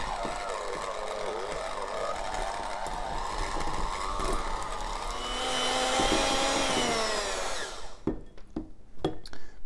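An electric mixer whirs steadily through cream cheese for an Oreo cheesecake, its pitch shifting as it works, then cuts off into a few faint clicks and knocks.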